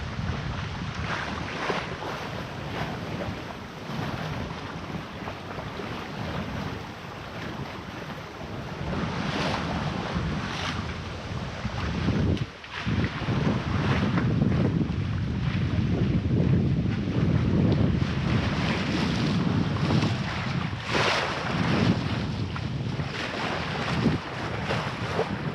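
A sailboat under sail from Exmouth to Falmouth at about 3 knots in 11 knots of wind, with steady rushing water, hull wash and gusting wind buffeting the microphone, swelling louder midway, no talking.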